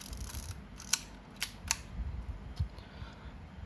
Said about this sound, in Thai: ถ้าเราขึ้นชัตเตอร์ มันก็จะล็อก